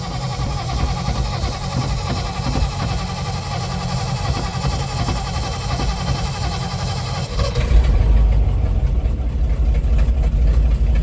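A 1959 Ford F-100 truck that has sat for a year, its engine cranking with a rhythmic chug before catching and settling into a loud, rumbling idle, close by.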